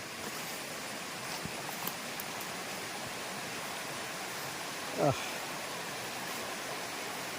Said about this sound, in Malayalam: അതിൻ്റെ അടിയിലൂടെ ഒരു അരുവി ഒഴുകുന്നുണ്ട്